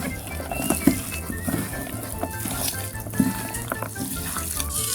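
Salted meat and onion being mixed by hand for Soviet-style shashlik, giving close, wet squelching and patting sounds in an irregular rhythm, with no talk.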